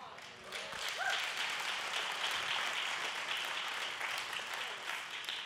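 A church crowd claps in steady applause that swells quickly and holds at an even level, a dense wash of hand claps filling the room without a break.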